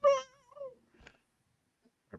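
A cat meows in a quiet room: one clear, wavering meow followed by a shorter, softer one, then a couple of faint knocks and handling noises.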